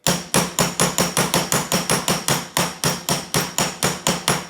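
Steady, evenly spaced metallic hammer taps seating a Classic Mini tapered wheel bearing, about four per second, sharp and close, each striking with a ringing edge and no voices.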